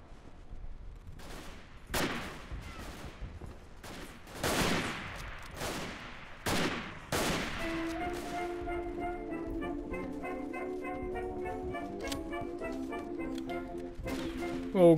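Several sharp rifle gunshots ring out at irregular intervals in the video game Verdun, a rifle deathmatch on the Vauquois map, then music-like tones take over with occasional softer shots in the background.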